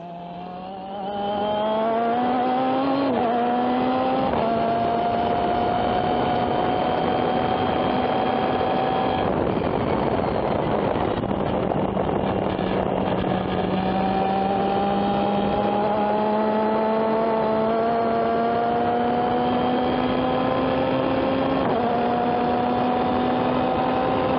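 A Formula race car engine drones loudly from inside the car, its pitch climbing through gears and dropping between shifts as it laps Sonoma Raceway.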